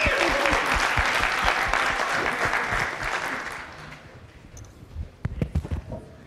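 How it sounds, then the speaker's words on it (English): Audience applause welcoming a speaker at a Docker technical talk: a dense burst of clapping that thins out and fades, followed by a few scattered late claps and faint room noise. "Some applause, please."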